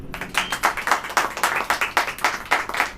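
A church congregation claps together during a Hindi sermon, producing a steady run of rhythmic, fairly loud claps with no talking over them.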